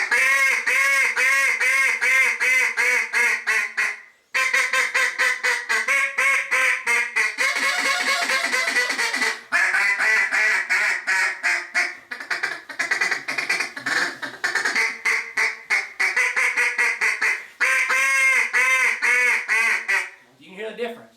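Duck call blown in an aggressive attitude style, louder than a softer sweet calling sequence: loud, rapid raspy quacks in rolling bursts with brief pauses, close and dominant throughout.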